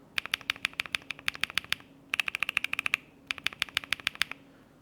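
Close, clacky mechanical keyboard typing on MMD Princess V4 switches in three quick bursts separated by short pauses, each keystroke crisp and distinct.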